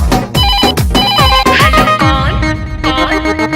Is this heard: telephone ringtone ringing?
yes